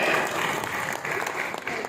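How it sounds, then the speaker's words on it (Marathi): Steady applause from a conference audience, dense clapping that holds at an even level for the whole stretch with a faint voice or two underneath. "सगळ्यांसाठी जोरदार टाळ्या"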